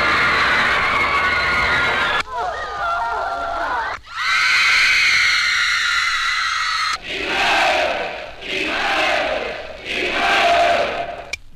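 Recorded crowd cheering and shouting played from a novelty shouting machine, with loud bursts of many voices yelling and roaring in several surges, separated by short breaks.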